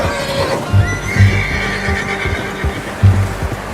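A horse neighs loudly in a rising whinny, with a few heavy hoof thuds and low rumbling in the background, from the video game Red Dead Redemption 2.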